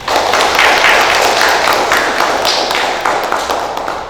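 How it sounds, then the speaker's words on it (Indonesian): An audience at the opening of a Miss Muslimah Indonesia audition in West Java claps loudly and continuously, a dense close burst of hand claps that holds steady before easing slightly. "Tepuk tangan."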